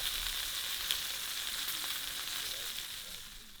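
Bush bird wing sizzling and frying over a cooking fire in Jamaica, a steady close crackling hiss with no talking.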